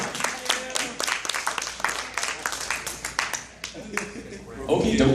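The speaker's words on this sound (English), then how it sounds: "Everybody give a welcome cheer to our lovely staff member here" Audience at an anime convention panel claps in welcome, a steady burst of close, crisp hand claps from a room of people, with talking mixed in underneath.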